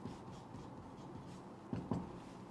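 Marker or chalk writing on a board during a chemistry lesson, soft faint scratching strokes over a steady low background hum, with a couple of slightly firmer strokes near the end.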